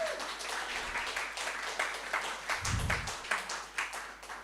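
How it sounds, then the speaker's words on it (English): Cafe audience at a poetry evening clapping for the cook, a moderate, even patter of hands throughout, heard from a little distance with a brief low thump partway in. "so a big round of applause for Anna"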